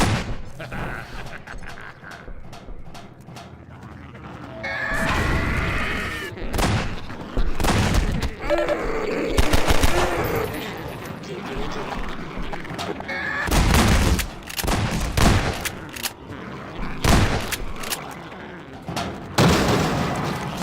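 Gunfire and booms in the Half-Life 2 RTX demo video game, heard as repeated loud bursts of shots and blasts scattered through the stretch, with speech in between.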